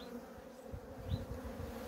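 Honeybees at an October hive in Ardahan hum in a low, steady buzz, with a few louder passes of single bees flying near, the colony noted as restless and aggressive.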